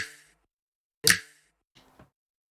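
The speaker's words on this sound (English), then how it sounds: "did the same thing with this snap right here" A sampled finger snap from a hip-hop beat plays in isolation: one crisp, bright snap sits between a softer one at the start and a faint, brief tail near the end, with no talking.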